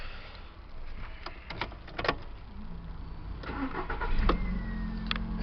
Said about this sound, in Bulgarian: Ето как пали този автомобил.